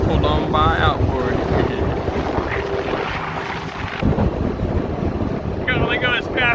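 A jet boat running on choppy water near an outboard motorboat, with steady engine drone and wind buffeting the microphone throughout, while voices speak over the noise.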